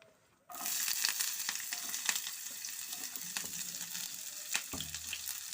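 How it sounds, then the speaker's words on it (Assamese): Cooking oil heated in a frying pan for an egg and tomato dish bursts into a sudden loud, continuous sizzle after a quiet start, with small crackles and pops throughout, close up. "তেল দিছোঁ। পেনখন গৰম হৈছে।"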